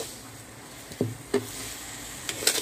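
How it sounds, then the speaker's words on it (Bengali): Sugar being stirred into cooked chickpea lentils for halwa: a few soft scraping knocks of a spoon against the pot over a quiet hiss, with a light clink near the end. "তাহলে আমি ডালের সাথে চিনিটাকে ভালো করে মিশিয়ে নিচ্ছি"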